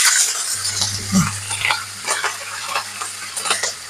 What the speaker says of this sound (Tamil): கருவேப்பிலையும் நம்மளுக்கு நல்லா பொரிஞ்சுது